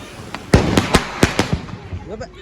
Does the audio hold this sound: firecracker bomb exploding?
yes